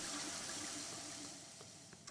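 Water running from a tap as a character drinks in the sci-fi game Prey, a steady rushing, splashing flow that tapers off into quieter trickling.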